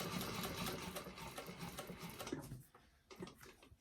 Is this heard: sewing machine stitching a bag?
yes